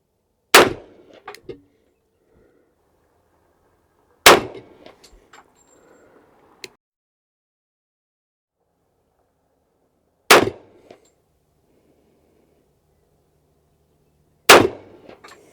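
Four loud, sharp pistol shots from 185-grain Remington Golden Saber bonded .45 ACP rounds fired into gelatin, each a single crack spaced several seconds apart, with faint clinks and rustling in between.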